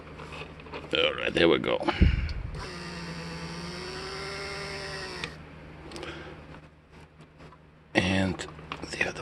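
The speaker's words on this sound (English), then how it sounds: "So as you can see, motor runs." A rear headrest motor from a Mercedes S600 W140 coupe, greased and bench-tested, whirs steadily for about three seconds in a quiet room. Brief speech and handling noises come before and after it.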